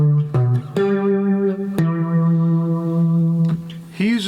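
A three-string cigar box guitar plays a lick slowly through a distorted, effected tone, a few plucked notes ringing and sustained one after another with slight reverb, close and loud, no speech.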